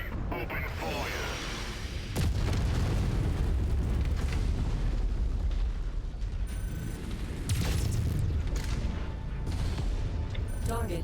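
Heavy artillery blasts and booming explosions from MechWarrior 5 battle, set in the year 3041 in Commonwealth space, rumble loudly and continuously, with big surges around two and seven and a half seconds amid mechanical combat noise and radio chatter.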